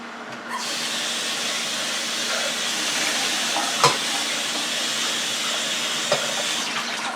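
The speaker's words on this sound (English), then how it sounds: "Let me just rinse my pot out." Water runs steadily into a cooking pot as it is rinsed out, a close, continuous hissing rush with a couple of small clunks of the pot.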